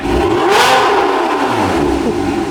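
A supercar engine with an aftermarket sport exhaust revs sharply, rising to a loud exhaust roar, then drops and rumbles through repeated throttle blips, very close.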